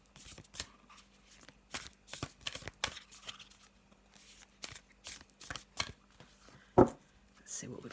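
Cards being shuffled in quick, soft bursts of riffling and flicking, close by, with quiet pauses between.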